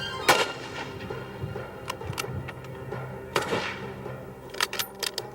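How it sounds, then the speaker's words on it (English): Rifle shots fired in a timed firing test, three sharp loud reports spaced a few seconds apart, each followed by a short echoing decay, with faint background noise between them. "In each series, he was able to fire the 3 shots in less than 6 seconds."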